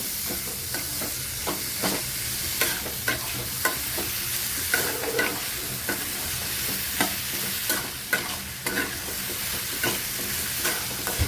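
Sprouted urad beans sautéing in a pan give a steady close sizzle, broken by regular scraping stirs at roughly one-second intervals, with no voices.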